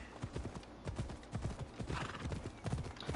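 Hooves of a horse in the video game Assassin's Creed Odyssey pound in a quick, steady galloping rhythm, close and fairly quiet, with no talking over them.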